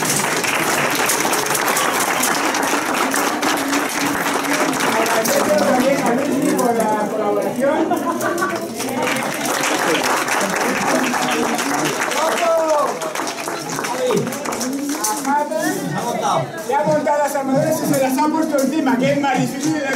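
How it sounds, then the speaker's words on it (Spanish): An audience applauds steadily after a medieval knights reenactment display, the clapping continuous and fairly loud throughout, with voices talking and calling out over it. "Un aplauso y muchas gracias."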